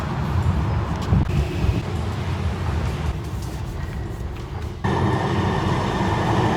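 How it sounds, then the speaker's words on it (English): A Link Light Rail train rolling along, steady rumbling and rattling of the car with a shift in tone partway through as the ride continues, no talk. "Gonna take the Link Light Rail now."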